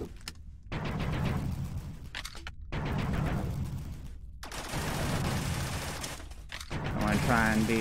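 Enemy gunfire in the Rec Room video game comes as loud, sustained bursts of rapid shots separated by brief silences, heard close and dominating the mix.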